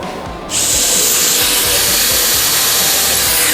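A Bosch drill drives a screw into wood in a workshop beside a Bosch GTS 10 XC table saw, starting abruptly into a loud, steady whine with a rapid pulsing rattle underneath.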